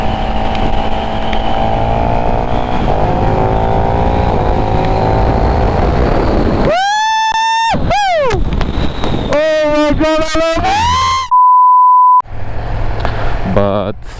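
KTM Superduke 1390 Evo R motorcycle ridden on a wet road, a steady engine drone giving way to loud rising revs and quick gear-change pulls, with a short electronic beep tone near the end.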